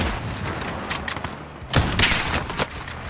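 Rapid gunfire bursts in the video game Warzone, loud and close, with sharp cracks building into a dense fusillade around the midpoint and a few trailing shots.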